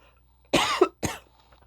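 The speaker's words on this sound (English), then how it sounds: "this cough just won't go away this morning" Two sharp, close coughs, the first longer and harsher, the second shorter a moment later, with near silence around them.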